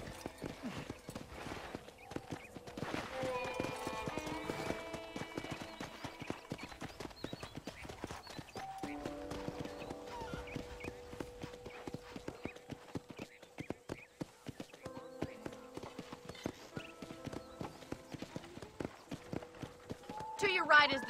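Horse hooves clip-clop steadily in Red Dead Redemption on the Xbox 360 as a horse is ridden through town, a continuous rhythmic clatter under speech and some background music.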